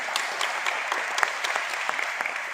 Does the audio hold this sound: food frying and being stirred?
no